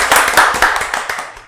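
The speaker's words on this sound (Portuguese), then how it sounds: "Uma salva de palmas para o nosso amigo Henrique!" Live applause for a guest on a Brazilian podcast about real-estate financing, a small group clapping loudly and close for a short burst, individual hand claps distinct and fading toward the end.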